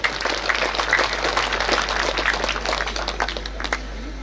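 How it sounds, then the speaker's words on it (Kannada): An audience at a Kannada stage event gives a short burst of dense, steady applause, with many hands clapping together fairly close by. "ಮತ್ತೊಮ್ಮೆ ಅವಳಿಗೆ ಚಪ್ಪಾಳೆಯೊಂದಿಗೆ ಪ್ರೋತ್ಸಾಹಿಸಿ"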